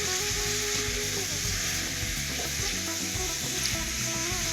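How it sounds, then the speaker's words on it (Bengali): Kohlrabi and potatoes fry in a pan with a steady, loud sizzle and occasional stirring scrapes, continuous throughout with no talking. "তো এখন ওলকপি আলু দিয়ে 3 থেকে 4 মিনিট ভেজে নেব।"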